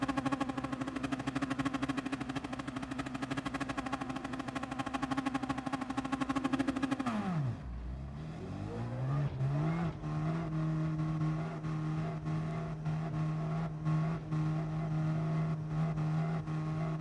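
A racing Alfa Romeo 4C in GT Sport holds a steady high engine drone, then the note drops sharply as it shifts or lifts off and climbs back to a sustained buzzing tone, loud and alone.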